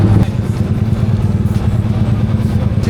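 Motorcycle engines rumble steadily and loudly throughout, a dense low drone with rattling clatter layered over it, no voices.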